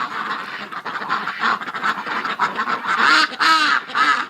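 A flock of ducks in a winter pen quacks and honks continuously, close and fairly loud, with overlapping calls from several birds.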